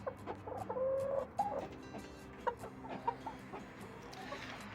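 Backyard hens cluck in a flock kept about a month, with a drawn-out squawk early on and scattered short clucks after, close and moderately loud against a faint farmyard background.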